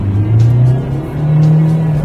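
A Renault Captur SUV engine pulls hard from a standstill, a loud, steady rising drone with the pitch climbing, then easing and rising again as it accelerates.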